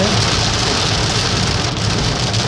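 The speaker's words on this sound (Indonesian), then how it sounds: "dalam keadaan hujan deras, sangat deras" Very heavy rain pounding steadily on a vehicle while driving the Bawen–Semarang toll road, a loud, dense, unbroken roar throughout.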